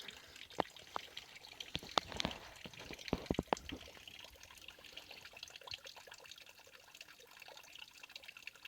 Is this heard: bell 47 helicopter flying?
no